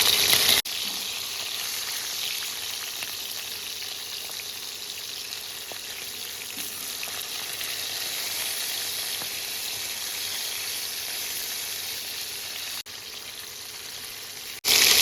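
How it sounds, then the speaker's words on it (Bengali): Oil sizzles steadily around lightly frying hilsa fish pieces, a constant crackling hiss at moderate volume with occasional small pops and no voices. "মাছের একটা পিস লাইট করে ভাজা হয়ে গেছে এবার আমি অপর পিস উল্টে দেবো"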